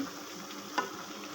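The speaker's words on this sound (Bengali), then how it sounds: "আগে একটু কষিয়ে নিচ্ছে আজকে পুঁই শাকটা" Malabar spinach and prawns sauté in a pan, a soft steady sizzle with one brief stirring clatter, fairly quiet and without voices.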